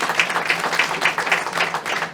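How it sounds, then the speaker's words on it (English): Audience applause for an improv comedy team, a steady wash of many hands clapping throughout with small swells, fairly close and filling the room without talk over it. "How about a nice big warm round of applause for our improv comedy team?"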